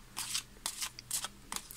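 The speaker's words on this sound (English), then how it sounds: "going to shuffle one more" A Zillich Tarot deck being shuffled by hand, quick bursts of riffling card noise in short clustered flurries, close and fairly soft, with no voice.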